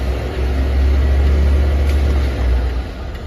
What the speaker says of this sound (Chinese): 右边的那个驱动轮一直在转， 一直在空转打滑。